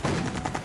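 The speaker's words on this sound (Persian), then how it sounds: "نیروها از یک قسمت تیراندازی می کردند و بعد می دویدن از جای دیگه شلیک می کردند." Gunfire in a street battle through a city's back alleys, a dense burst of rapid shots crackling continuously for under a second, loud and close with no talk.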